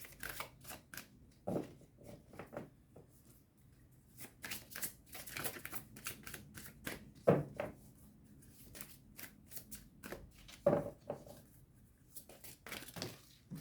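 Tarot cards being handled and shuffled at a reading, quick faint papery riffles and taps in irregular clusters, close and quiet with no talk.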